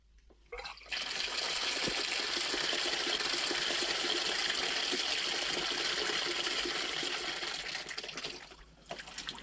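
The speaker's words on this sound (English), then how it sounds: "the bathtub tap was running" A bathtub tap runs steadily indoors, a loud, continuous rush of water that starts abruptly near the beginning, holds constant for several seconds, then eases slightly at the end.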